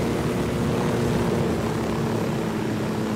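A helicopter in the Ghost Recon video game drones steadily with a dense rotor and engine roar, constant and moderately loud, with no speech over it.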